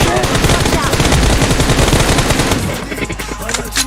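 Loud rapid automatic gunfire from a video game shooter sounds in dense bursts, then thins out into scattered shots and fades near the end.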